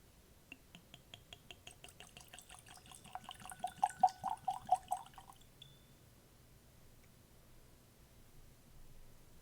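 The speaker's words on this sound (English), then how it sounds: "This seems like a lot of whiskey in here, but I'm going to pour it and find out for certain." Peat Monster blended scotch whisky poured from a bottle into a glass, a gentle glugging trickle that builds to a quick run of louder glugs around midway, then stops, leaving quiet room tone.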